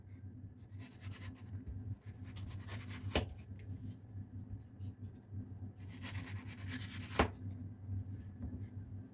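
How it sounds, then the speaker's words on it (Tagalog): Knife slicing through mango on a cutting board: two bursts of quick, soft cutting strokes, each ending in a sharper tap of the blade on the board, close and quiet over a low background hum. "Then, yung ating mango ay hihiwain natin siya."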